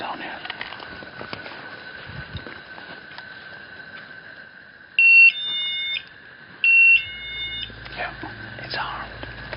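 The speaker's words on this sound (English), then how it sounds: "One of the motion sensors that we placed in the market went off." A motion sensor alarm set up in a market in a haunted city goes off with two short, loud electronic beep bursts close by, heard over a steady high hum while people whisper.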